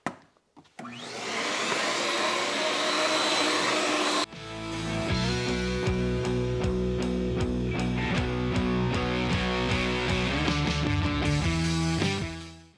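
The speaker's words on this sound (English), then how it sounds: "we'll come vacuum this up" A vacuum cleaner runs in a workshop, starting with a loud whining roar and then shifting to a lower steady drone with rhythmic pulsing as it cleans up debris.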